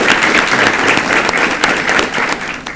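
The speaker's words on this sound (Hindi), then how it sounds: "मैं चाहूँगा कि तालियों के साथ में ऑडियंस आप भी स्वागत कीजिएगा।" An audience applauds loudly to welcome a guest cardiologist at a heart-health talk, a thick, close wash of clapping that holds steady throughout.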